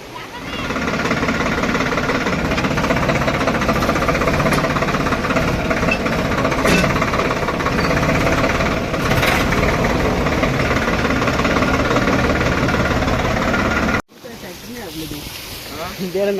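A farm tractor runs in a stream while being washed, its engine giving a loud, steady, close rumble that cuts off abruptly near the end before noisy sound resumes.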